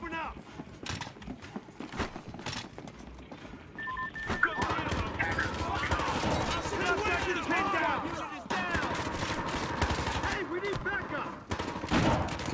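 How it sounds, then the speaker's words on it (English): Gunfire in a Battlefield Hardline match comes as scattered shots and bursts amid busy in-game noise, with a player talking over the shooting throughout. "a few of them are getting shot here now"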